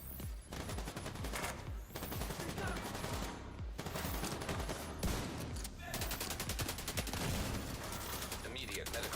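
Rapid automatic gunfire in The Division 2 during a legendary Summit floor fight, dense overlapping bursts of shots and fusillades with game voice callouts mixed in, loud and nearly continuous.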